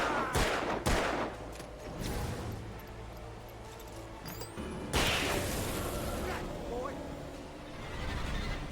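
Gunshots in the horror action game Alan Wake, a few sharp loud shots spaced out with quieter stretches between, including a heavy blast midway, and a person talking between the shots.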